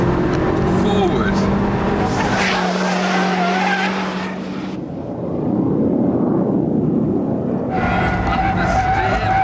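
A Ford Focus race car with a racing differential corners hard on tarmac, tyres squealing and skidding as the engine roars loudly, dipping briefly mid-corner before surging again close by.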